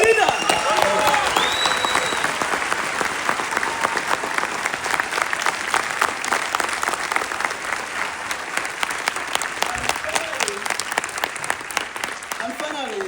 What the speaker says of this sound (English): I really want you guys to give an hand of applause for my mom as a team leader.